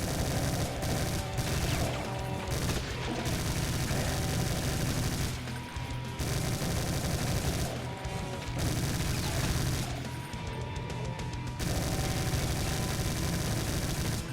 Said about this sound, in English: Bullets everywhere. I just used up like 230 bullets.